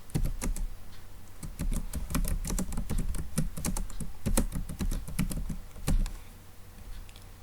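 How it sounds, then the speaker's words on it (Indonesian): Fast, uneven bursts of clicking keys on a computer keyboard while data is entered, close and clear, with short pauses between runs of keystrokes. "Kita ketikkan."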